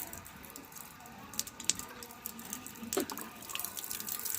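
Water runs from a tap into a pipe, a soft trickling flow that grows fuller and splashier toward the end, with a few drips and squishy handling noises.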